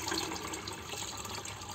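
Water poured into a five-litre tree-treatment solution while topping it up in an orchard being prepared for winter: a steady, even rushing stream, close and moderately quiet, with no voices.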